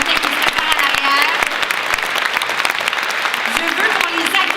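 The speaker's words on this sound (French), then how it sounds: "S'il vous plaît, on applaudit nos mannequins qui se préparent à l'arrière" A dense round of audience applause breaks out at a fashion show, loud and sustained throughout, with faint voices and cheers mixed into the clapping.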